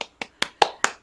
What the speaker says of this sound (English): you can walk around and clap